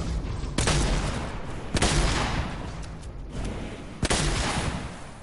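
Video game gunfire rings out in sharp loud bursts, several spaced shots cracking over a busy rumbling background, with no talking.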